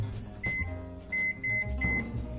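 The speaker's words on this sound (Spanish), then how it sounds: "nos vamos al horno microondas" A microwave oven hums steadily and gives several short high beeps, one alone and then a quick run of three.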